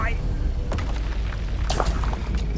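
A Bombarda spell detonates in the video game Hogwarts Legacy, giving a booming blast with a sharp burst of crackling debris over a low game rumble. It sits amid battle audio, with a voice briefly audible.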